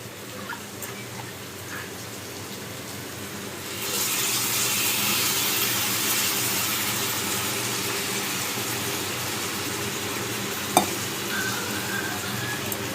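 Tamarind juice poured into a sizzling chicken curry with broad beans, a steady background frying hiss that swells louder midway and holds as a bright continuous sizzle, with one brief clink near the end and no talking.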